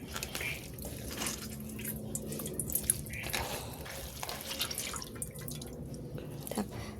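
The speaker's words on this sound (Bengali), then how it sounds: "বাঁধাকপির মধ্যে এখনও অনেকটাই জল রয়েছে, এটা একটু হাত দিয়ে চিপে চিপে বার করে নিচ্ছি।" Water drips and trickles as a cabbage is squeezed by hand, giving soft, irregular splashes and wet squelches at close range that stay fairly quiet throughout.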